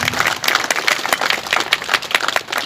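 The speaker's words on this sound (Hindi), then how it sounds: "तालियां बजती रहनी चाहिए।" Applause from an audience at a postal department life insurance fair and award ceremony in a dak bungalow in Tamar, Jharkhand, heard as a steady patter of many hands clapping at close to moderate range.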